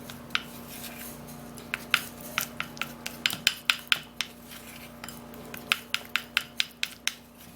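Homemade eyebrow treatment mixture being stirred in a bowl, a steady run of sharp clinking and scraping taps from a utensil against the container, close and fairly quiet, with no voices.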